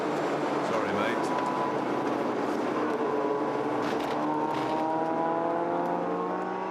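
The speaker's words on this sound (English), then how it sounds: "this Mini is a gem. It's a wonderful car to take to a track day." A Mini on a race track during a track day, its engine droning steadily with rising and falling revs as it drives hard, a continuous loud car sound with other track noise around it.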